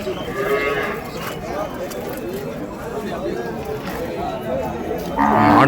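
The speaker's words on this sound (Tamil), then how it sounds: "நாட்டு பசுமாடு ஒன்று கொண்டு வந்திருக்காங்க பாருங்கள்." Native cows and other cattle low at the Vaniyambadi cattle market, with a couple of moos rising over steady crowd chatter and people talking nearby.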